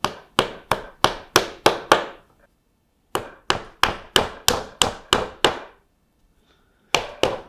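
Quick runs of hammer taps on assembly pins being set into a wooden cabinet shelf, about six blows in each of three bursts with short pauses between, crisp wooden knocks up close and no voices.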